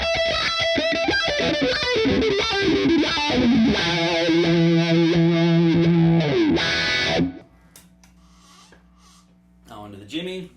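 Distorted electric guitar solo on the bridge pickup through a Cry Baby Zakk Wylde wah pedal, loud sweeping bends and runs for about seven seconds, then cutting off to a quiet amp hum and a short final note.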